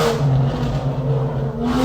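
A Porsche engine runs loud and close in a steady, throaty rev that dips slightly in the middle and then holds, with no voices over it.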